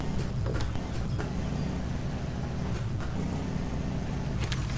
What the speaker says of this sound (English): that might be a little bit too extreme of a mud hole for this stock little truck